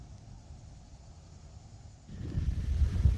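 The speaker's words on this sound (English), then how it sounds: "I just realized that it's a little windy up here" Low wind rumble buffeting the microphone on a mountaintop on Currahee Mountain, quiet at first and then gusting louder for the last second.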